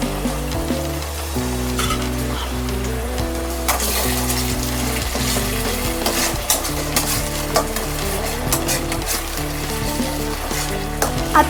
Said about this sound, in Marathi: तर मी कढीपत्ते टाकते, ह्याला चोळून टाकू कारण फ्लेवर येतो याचा